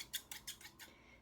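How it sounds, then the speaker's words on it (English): A pair of dull household scissors opening and closing, giving four quick, crisp metallic snips in an even rhythm, close and fairly quiet with nothing else heard. "So I mean, these are not bad scissors,"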